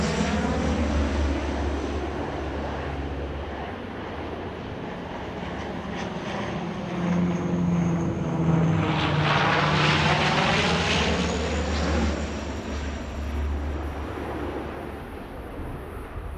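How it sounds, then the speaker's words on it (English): Firefighting aircraft, a group of four planes, roar low overhead while water-bombing a wildfire in Greece, a loud steady engine drone that swells and recedes as one passes close. "a quartet of aircraft repeatedly water-bombed the fire from above"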